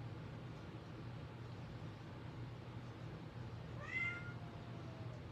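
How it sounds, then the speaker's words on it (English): A house cat gives a single short meow midway through, faint against a steady low hum and background noise indoors. "That's one of my cats."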